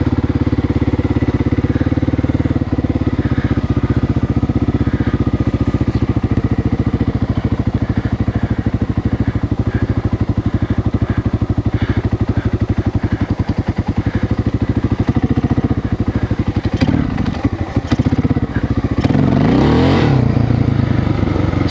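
A Honda XR600R motorcycle built from leftover parts of seven old bikes runs steadily close by with a rough, loud thump, then rises into sharper revs near the end during a jetting test.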